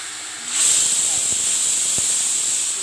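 Ground chutney paste hits a hot pan with a sudden loud sizzle that keeps hissing steadily.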